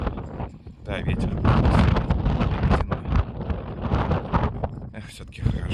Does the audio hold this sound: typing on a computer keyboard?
no